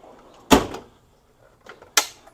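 A tool chest drawer in a home shop, holding 3/4-inch drive tools, slides open with a sharp metallic clunk, followed by a softer rattle and a second clack.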